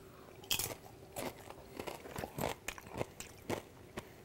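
Crunchy chips bitten and chewed through a layered taco bean dip, a series of sharp, close crunches spaced irregularly over a few seconds, with no talking.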